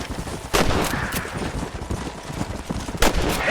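Gunfire in the video game Red Dead Redemption on PS3: two sharp shots about two and a half seconds apart over steady outdoor ambience and rumble.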